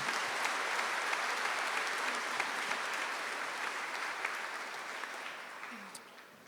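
Sustained, dense applause from a large audience at the Miami Trace Class of 2025 high school graduation ceremony, steady throughout and tapering slightly near the end.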